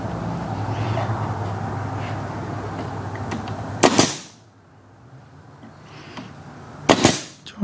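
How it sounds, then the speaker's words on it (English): A pneumatic siding nail gun fires ring shank nails while building wooden nuc boxes: two sharp, loud single shots a few seconds apart, each standing out clearly from a steady background hum. "We use a grip right gun. It's a siding nailer."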